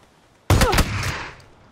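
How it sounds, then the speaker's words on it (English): Shotgun blasts fire in a video game, several rapid sharp booms in a burst with a short fading tail, loud and close over quiet background. "They're both shotgunning."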